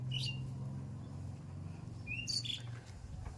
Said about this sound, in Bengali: পাখিগুলো কিচিরমিচির করছে